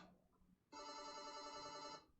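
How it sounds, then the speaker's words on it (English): A telephone rings in the Hearts of Iron IV strategy game, a steady electronic bell trill sounding loudly and continuously for just over a second after a quiet moment, with no talk over it. "Oh, and there's that phone call I was expecting."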